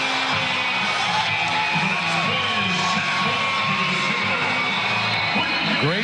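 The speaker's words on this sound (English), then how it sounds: "Great crowd inside McCaslin Fieldhouse, rattling the rafters of this historic building" A large crowd cheers, whoops and yells during a women's college volleyball match between Baylor and Oklahoma inside the historic McCaslin Fieldhouse, a dense, loud, sustained roar filling the arena.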